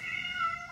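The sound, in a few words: cat meowing, probably in heat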